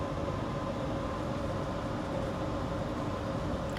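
A loud, steady rumbling roar of a KRL commuter electric train rolling past close by in Jakarta, broad and continuous without pauses, no voices.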